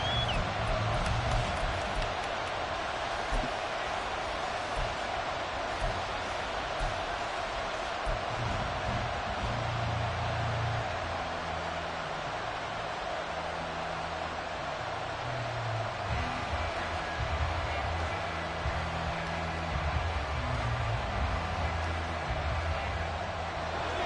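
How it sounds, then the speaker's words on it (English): Crowd noise from an American football video game: a steady, dense stadium roar fills the whole stretch, with low rumbling swells building beneath it at a constant loud level. "This crowd turning up the decibel level."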